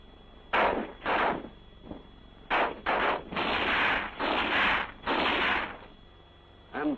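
Rifle gunfire from a WWII squad tactics film comes in a sequence of loud, band-limited bursts, some single reports and some sustained volleys, separated by short pauses.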